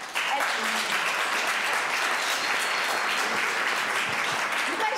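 Guests around a dinner-party table applaud in a steady, fairly close burst of clapping that runs throughout, with some voices mixed faintly underneath.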